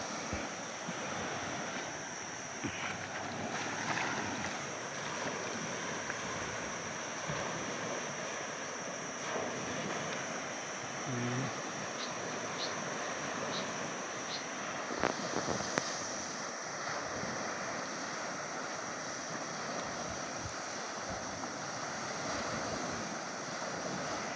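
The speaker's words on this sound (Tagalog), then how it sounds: "Grabe ang baha." Floodwater after heavy rain in Sultan Kudarat rushes in a continuous broadband roar, steady and fairly loud throughout with wind buffeting the microphone.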